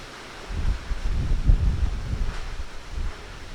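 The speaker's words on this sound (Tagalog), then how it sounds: "Ang nakikita ko na ngayon mga makakapal na ulap yun, ang lakas ng hangin." Strong wind from Typhoon Rolly, rough gusty rumbling buffeting with rustling, close and fairly loud, no voices heard.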